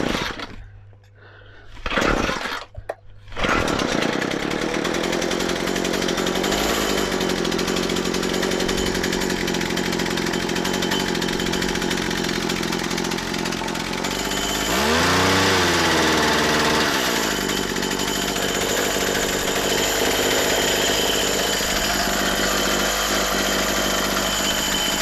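A McCulloch MH542 petrol hedge trimmer engine, choke on, sputters through a couple of failed pulls, then catches and runs steadily with a loud, buzzing two-stroke drone and one brief rev.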